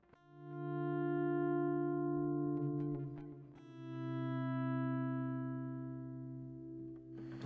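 Sustained electric guitar chords slowly swell in volume and fade back without a pedal, layered with echoing delay, an ambient wash with no voices.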